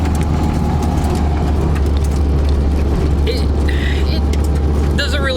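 A Nissan 240SX on a short test drive, its steady low engine drone and road noise running loud and continuous, with faint voices and some squeaky rattles toward the end.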